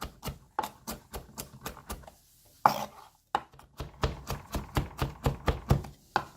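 A knife finely mincing garlic on a cutting board, brisk rhythmic taps in quick runs broken by a brief pause and a scrape, fairly close and fairly quiet with no talking.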